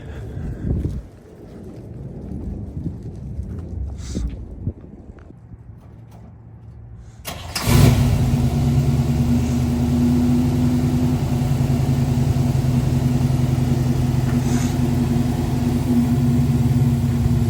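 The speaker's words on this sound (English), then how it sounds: "We're gonna fire it up now and then drive it." A 1972 Chevrolet Nova SS with a four-speed starts up after a stretch of quiet outdoor rustling, then settles into a loud, steady, deep idle with a rumbling exhaust, heard close by and without talking.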